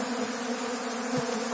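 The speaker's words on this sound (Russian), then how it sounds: "Сильный улей напал на слабый. И пытается забрать у него весь мед." A dense, steady buzzing of many honeybees from a strong colony robbing a weak hive swarms loudly and continuously, with no voices.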